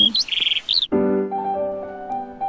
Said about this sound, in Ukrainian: Прилетіла пташка додому, заспівала пісню знайому.